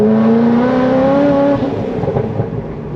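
A supercharged LS7 Corvette C6 Z06 on stock tires pulling hard in third gear, a loud close engine note rising steadily in pitch, then easing into a rougher, fluttering drone as the revs fall back.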